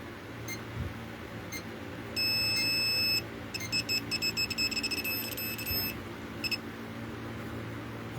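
An electronic detector, just powered on, gives a steady beep tone and then a run of rapid pulsed beeps over a constant low electrical hum, close by, with no talking.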